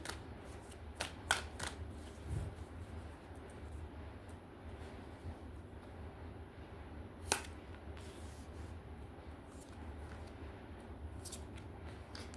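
A tarot card deck being shuffled in quiet, soft papery riffles and taps scattered through the clip with a few sharper flicks, close and faint, with no voices.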